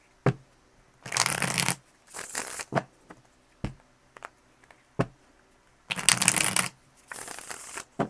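Tarot cards being shuffled by hand in several bursts of crisp riffling and flapping, with short pauses and soft taps between them, close and fairly loud, with no talking.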